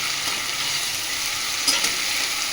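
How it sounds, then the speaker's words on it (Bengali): A spice paste of ginger, garlic, dried chili, cumin and onion sizzles steadily in hot oil for a fish bhujia. The frying hiss is continuous and close, with one brief louder crackle near the middle. "এবার সেটা দিয়ে এবার এটা ভালো করে কষিয়ে নেব"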